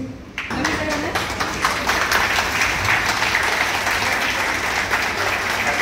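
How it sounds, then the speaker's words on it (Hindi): An audience at a retirement ceremony bursts into applause after a brief quiet start, then keeps clapping loudly and steadily, with some voices mixed into the crowd noise. "एक बार तालियां बजा दें प्लीज।"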